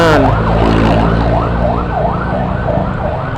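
A loud ambulance siren wails in a repeating up-and-down pattern close by, over the low rumble of road traffic.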